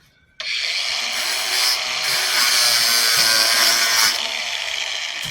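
Metal scrap is ground down for a truck build: after a brief quiet start, a grinder bites in with a sustained, harsh, high rasping whine that holds steady and eases slightly at the end, close by and without talk.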